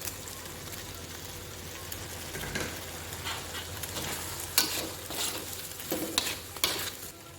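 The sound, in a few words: leeks simmering in chicken curry soup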